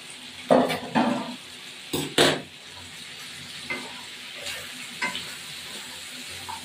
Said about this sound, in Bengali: এবার ইঁচড়গুলো দিয়ে দিয়ে ভাজা ভাজা হবে।